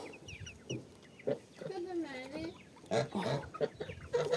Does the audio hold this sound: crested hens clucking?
yes